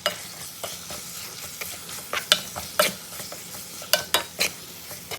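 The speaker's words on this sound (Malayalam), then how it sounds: "ഇതാ ഞാൻ ചിക്കനൊക്കെ ഇട്ട് കൊടുത്തിട്ടുണ്ട് കേട്ടോ." Chicken stirred and frying in a pan with onion and tomato for a curry, with repeated scraping strokes and clinks of a spoon against the pan over a steady close sizzle, and no talking.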